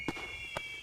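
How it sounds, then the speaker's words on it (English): In the Colin McRae Rally 2.0 video game, fireworks go off after a championship win: two short, quiet pops over a steady electronic tone. "Fireworks and everything."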